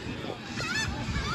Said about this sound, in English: Them seagulls are going nuts.